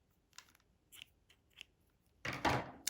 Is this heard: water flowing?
no